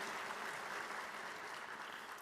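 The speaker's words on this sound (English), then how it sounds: "One more big round of applause as they make their way to the stage" An audience claps steadily at a school teacher-of-the-year ceremony, a dense, sustained round of applause filling the room at even loudness throughout.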